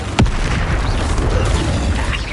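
Confringo blasting spell going off in Hogwarts Legacy, a sharp burst right at the start giving way to a loud, dense, rumbling wash of game noise that carries on steadily to the end.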